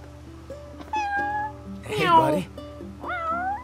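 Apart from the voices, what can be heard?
cat meowing in video game Final Fantasy XV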